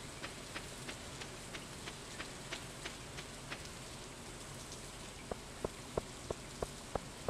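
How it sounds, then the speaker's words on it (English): Rain in the Stardew Valley video game: a soft, steady patter of falling rain with a faint run of evenly spaced ticking clicks, growing sharper near the end. "But it's raining."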